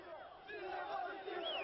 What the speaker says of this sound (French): Acclamation pour Sali Berisha, l'ancien président